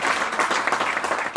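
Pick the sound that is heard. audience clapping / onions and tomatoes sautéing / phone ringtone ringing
audience clapping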